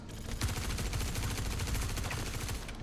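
Sustained automatic gunfire from a full magazine being emptied in Star Citizen, a dense unbroken stream of rapid loud shots lasting the whole stretch with no voices over it.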